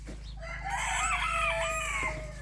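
Small chickens cluck and one crows close by in a drawn-out call over a steady low hum, in a farmyard.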